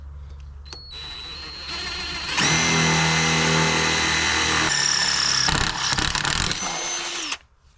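A drill bores holes into the metal strut tower of a Jetta VR6 wagon during an air suspension install, a loud close whirring that spins up, grinds steadily for several seconds with changing pitch, then cuts off.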